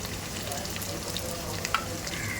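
Cut tomatoes frying in a pan for chicken methi bhaji give a steady, close sizzle that holds level throughout, with a couple of faint utensil clicks near the end.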